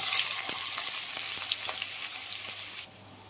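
Onion tipped with cumin into hot oil in a kadai sizzles loudly and steadily with crackling pops, then drops sharply quieter near the end.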